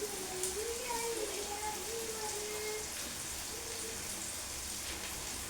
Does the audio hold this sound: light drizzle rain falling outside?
yes